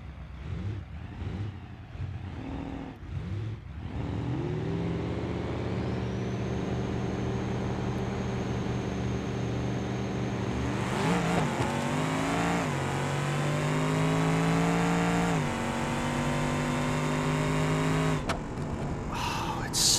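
A car with nitrous accelerates in BeamNG.drive, its engine whining up through the gears in long rising sweeps with a brief shift dip, loud and continuous after a few choppy starts.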